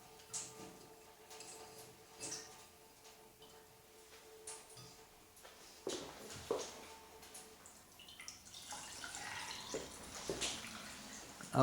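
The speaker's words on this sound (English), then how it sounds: "so that's the Kangen water going in" Kangen water being poured into a container gives faint irregular drips and splashes that grow busier and louder toward the end, over a quiet room background.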